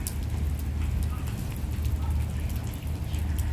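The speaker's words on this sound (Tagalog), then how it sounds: "Lakas ng ulan guys." Steady, dense rain roars continuously in Tsing Yi Northeast Park, Hong Kong, a heavy downpour with a constant wash of noise and low rumble, no distinct voices standing out.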